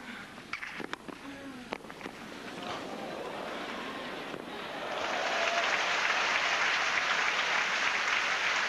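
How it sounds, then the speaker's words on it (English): Steady applause from a large tennis crowd, building and growing louder midway, then holding as a sustained wash of clapping. "the applause for both players here"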